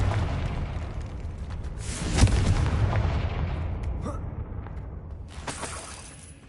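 A Confringo fire spell explodes in the Hogwarts Legacy video game, giving a loud, rumbling blast with a sharp crack that swells and then slowly fades.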